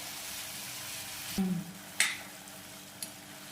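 Food frying in a pan with a soft steady sizzle, broken by a few clinks and scrapes of stirring and a quick spatter, no talking.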